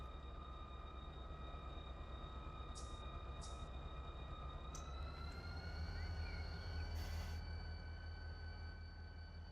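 A diesel freight locomotive in the Run 8 train simulator hums with a steady low engine drone and tonal whine while pulling empty cars, with a few brief clanks and hisses over the continuous rumble.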